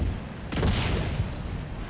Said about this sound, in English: Explosions in the background.